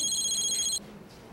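A mobile phone ringtone plays loudly and close as a steady, bright electronic trill in an indoor TV scene, then cuts off abruptly partway through.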